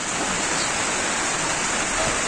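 Steady rain falls during an outdoor training session, a dense, even hiss that holds at constant loudness throughout, with no voices.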